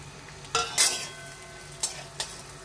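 Chopped cashews and raisins fry in ghee in a hot pan, a low steady sizzle punctuated by a few sharp metallic scrapes and clinks of a spatula against the pan.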